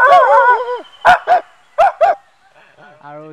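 A voice imitates two dogs fighting while eating rice: an opening whining growl, two pairs of sharp bark-like bursts, then higher whimpering yelps. All of it is close and loud, with no other sound underneath.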